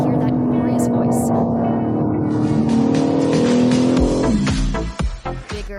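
A high-performance BMW M4 engine revs loud and sustained during a test drive, a steady strained tone rising slightly before cutting off into sharp gear-shift cracks and pops near the end.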